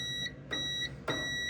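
A multimeter in continuity mode gives a steady electronic beep while probing the thermal cutoff on the heating element of an LG dryer, with a few soft contact clicks as the probes touch.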